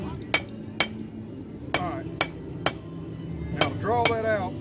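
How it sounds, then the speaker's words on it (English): A blacksmith's hammer striking hot metal during forging at a heritage day event: sharp ringing blows land roughly every half second, with a few ringing clanks on the anvil between strikes, heard at moderate distance amid faint background murmur. "I'm actually coming in with basically the toe of the hammer."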